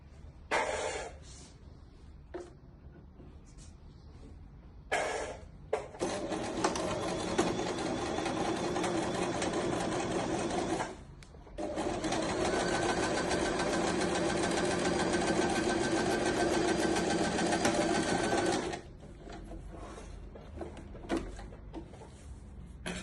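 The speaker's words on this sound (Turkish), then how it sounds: "Kanguru cebi dikerken ilk önce cep ağız kısımlarını tela yapıştırıp ütüleyip süs dikişiyle dikimini yapıyoruz." Close and loud, a sewing machine runs in long steady stretches while it stitches a kangaroo pocket, with a short pause midway and quieter handling clicks and fabric rustle before and after.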